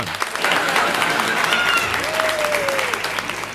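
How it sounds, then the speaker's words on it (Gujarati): Audience at a Gujarati comedy show clapping, a continuous patter of hands with a whistle-like tone and crowd noise mixed in, moderately loud and short. "તાળી પાડો તો એક આરે પાડો."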